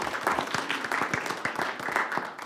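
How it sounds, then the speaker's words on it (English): A room at a governing board meeting breaks into applause, a moderate patter of clapping hands from a modest group, steady and fairly close. "Let's give them a round of applause and thanks"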